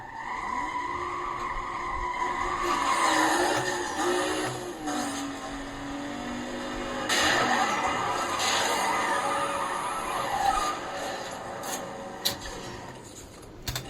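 Drag race cars in Need for Speed Most Wanted roar steadily under changing engine pitch as gears shift, with bursts of tire squeal and sharp clicks throughout, loud and continuous without talk.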